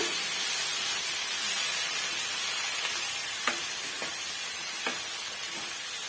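Chopped ridge gourd sautés in a pan over a medium flame, giving a steady close sizzle and hiss with a few faint clicks of stirring, and no one speaking.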